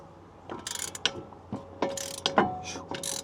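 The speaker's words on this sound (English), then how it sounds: "I'm just gonna go back and forth and loosen them at the same time to make it a little bit easier" A wrench ratchets in short repeated clicking bursts, close and moderately loud, as front brake bolts are loosened on a 2015–2023 Ford Mustang GT without the Performance Pack.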